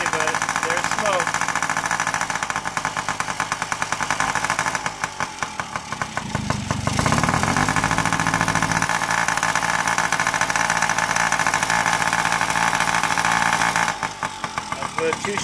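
A Yamaha PW50 two-stroke mini motorcycle engine runs steadily with a buzzy, rattling tone close by, briefly changing pitch midway, while a person talks over it.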